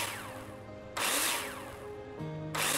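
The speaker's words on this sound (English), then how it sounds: "Right, drill! Let's get these all tidied up." A power drill in the Builder Simulator video game whirs in repeated bursts, each rising in pitch then winding down, three close, loud runs with short gaps and no talk.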